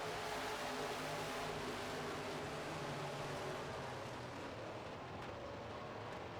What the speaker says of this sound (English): the 55 of Murray Cozy jumps out to the early lead